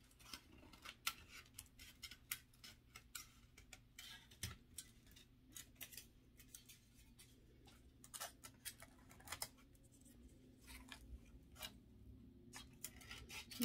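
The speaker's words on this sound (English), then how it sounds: "Trim off the extra tin foil that I don't need." Scissors snipping extra tin foil around a pine box, a series of quiet, close, crisp cuts in an irregular rhythm, heard without talk.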